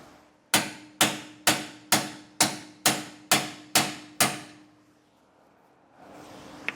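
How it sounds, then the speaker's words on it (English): Nine sharp, evenly spaced hammer blows ring out close by, striking a part to seat it during a leaf spring suspension install on a 2023 Palomino Puma travel trailer, each hit decaying quickly before the next, followed by quiet. "I am going to hit this a couple more times just to see if that'll fully seat now."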